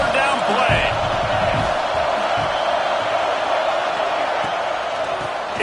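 A dense stadium crowd roars continuously during a big third-down play in College Football 26, a loud steady wall of cheering with no breaks.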